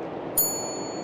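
A single bright reception bell ding in the St. Dinfna Hotel in the game Fobia, struck once and ringing on with a clear, sustained metallic tone over a quiet room hum.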